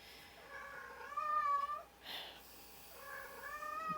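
A house cat meows repeatedly indoors, with drawn-out, wavering cries in two bursts separated by a short pause, fairly close and clear against a quiet room.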